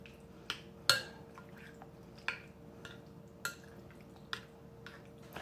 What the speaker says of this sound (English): And slowly and carefully stir everything together.